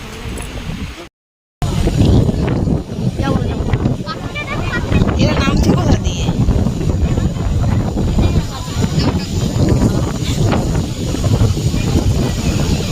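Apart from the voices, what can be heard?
strong wind at the beach buffeting the phone microphone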